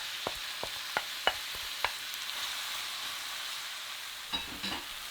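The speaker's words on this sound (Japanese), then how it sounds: "バターがよく溶けたら先ほど切った玉ねぎを入れます。" Onions go into melted butter in a pot, a series of sharp taps and clatters giving way to a soft, even sizzle, with a brief stirring scrape near the end.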